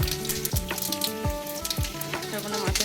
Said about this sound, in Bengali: এখানে আমি চচ্চড়ির জন্য ফোড়ন দিয়ে দিচ্ছি।